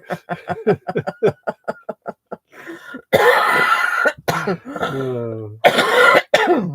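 A quick string of short, sharp coughs and throat-clearing bursts, followed by laughter and people talking nearby.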